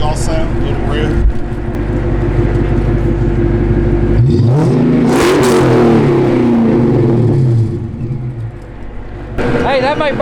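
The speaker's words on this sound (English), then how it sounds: "Can you give me a little exhaust sound" A Saleen 570X sports car rated at over 700 horsepower idles loudly close by, then its exhaust swells into a rising rev that sweeps up and falls back before the engine settles again, with people talking over it.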